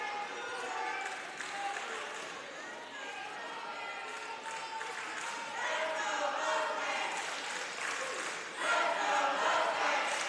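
A crowd at a high school volleyball regional semifinal between Rockwall and Cypress Ranch cheers and chants in a steady, lively roar that swells near the end, with commentators talking over it.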